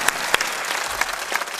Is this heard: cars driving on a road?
no